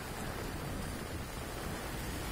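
Heavy monsoon rain in Mumbai, a dense, loud and constant roar of downpour filling the scene with no voices.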